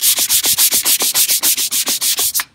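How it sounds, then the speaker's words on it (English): Plastic front bumper and side moldings on an XTerra being scuffed by hand, a fast, even run of about a dozen loud close rasping strokes in a regular back-and-forth rhythm, with no voices. "we're gonna start scuffing up the plastic, the front bumper, the side moldings"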